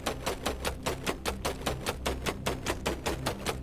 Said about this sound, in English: So if I hold the mouse over it and just click furiously